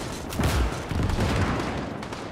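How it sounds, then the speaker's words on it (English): Soviet anti-tank guns fire in a custom Gates of Hell battle at a hill fortification, producing several heavy booming shots and rumbling gunfire that come in a quick cluster and then trail off into a dense battle din. "the Soviet AT guns are keeping the American armor at bay now"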